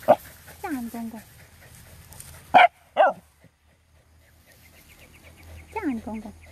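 A dog at play by a rice field in Bali gives short, scattered barks and yips between quiet gaps, close by, with a person talking intermittently.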